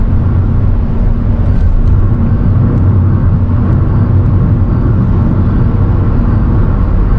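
A car accelerating past 100 km/h, heard from inside as a loud, steady engine and road roar that holds level throughout with no talking.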